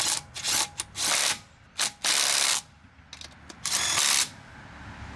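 A Ridgid subcompact brushless impact driver removing lug nuts, loud repeated bursts of rapid hammering rattle, several short and long runs separated by pauses, close up with no talking.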